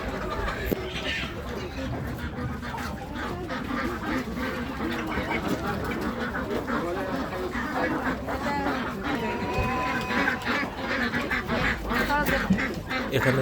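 Many ducks quack loudly and continuously at a busy, crowded poultry market in Osh Bazaar, Kyrgyzstan, with people's voices mixed into the din.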